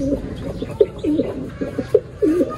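A racing pigeon coos in several short, repeated calls close by, its soft throaty notes spaced roughly every half second over faint background noise.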